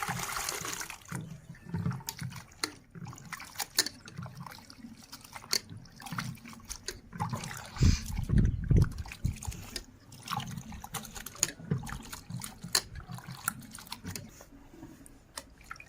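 Water runs and splashes steadily while tripe is rubbed and squeezed in cold water, with wet sloshing bursts and small clatters throughout.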